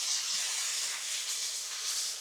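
Smash burgers sizzling on a Blackstone griddle, a continuous bright hiss of searing fat, steady and close, with no voices.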